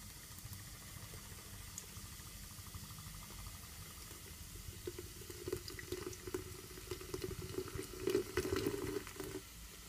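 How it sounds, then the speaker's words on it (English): Ting soda poured into a glass for a mint and strawberry mocktail: a steady, close, fizzing stream of liquid that runs the whole time and swells toward the end. "So now I'm gonna add my ting. I'm gonna add all of it."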